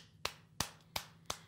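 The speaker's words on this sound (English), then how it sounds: "We're going to clap our hands." Hands clap four times at an even, unhurried rhythm, each clap a sharp, close, fairly quiet slap with near silence between.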